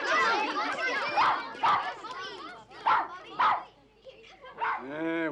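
A small dog barks in a few sharp yips and short whimpering calls, scattered and fairly close, amid talk and background chatter.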